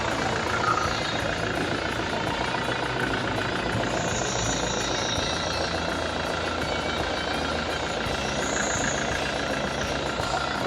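A 2011 Hyundai i20 single-owner diesel idles steadily and close by, a continuous low rumble with a faint knocking texture running unchanged for about ten seconds, with no talk over it.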